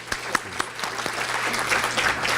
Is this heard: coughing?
no